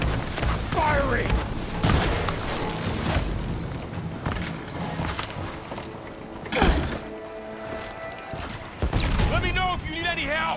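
Gunfire and heavy booms in the Horizon Forbidden West game at a Carja and Tenakth embassy meeting, with loud bursts and thuds mixed with game voices shouting over the fight.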